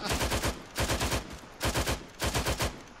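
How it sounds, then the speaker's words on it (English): Suppressive automatic gunfire in a military video game: four loud bursts of rapid shots, each a tight string of cracks, with short gaps between them. "Mate, if you just want some suppressive fire,"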